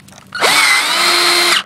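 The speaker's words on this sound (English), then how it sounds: "We're going to drill this hole here." A power drill bores a hole for a magnetic latch on a self-closing pool fence gate, one short close burst that whines up to speed, holds for about a second, then cuts off.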